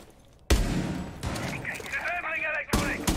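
Gunfire through a wall at a camera in Rainbow Six Siege during a Six Invitational NA LCQ match on an esports broadcast: a sudden loud burst of shots, then a sustained rattle with tonal game sounds, and a second burst at the end.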